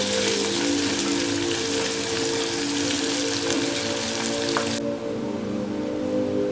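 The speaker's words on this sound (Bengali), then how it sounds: "তারপরে সুন্দর করে পেঁয়াজটাকে একটু লাল করে ভেজে নিব।" Chopped onion fries steadily in a pan for a Bengali fish-head muri ghonto, giving a dense, even, rain-like sizzle that continues throughout and turns duller near the end.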